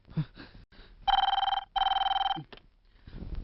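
A telephone bell rings loudly in two long, rapid trilling bursts separated by a short gap, with faint voices before and after.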